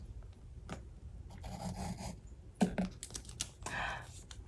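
A small cutter slices across a sheet of paper in a few short scraping and rasping strokes with a couple of soft taps between them, close and quiet with no talking.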